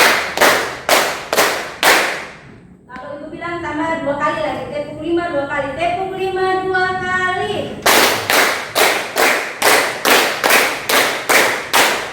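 Children clap in unison in a teacher-led classroom routine, a burst of sharp claps at the start and a steady run of rhythmic claps at the end, separated by a stretch of speech or singing in between.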